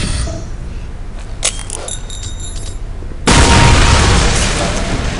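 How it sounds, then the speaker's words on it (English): A high explosive grenade detonates in Counter-Strike: Condition Zero, one sudden loud blast that cuts in after quieter game ambience and rolls on as a sustained roar. "High explosive grenade. Toss the grenade at the target to continue."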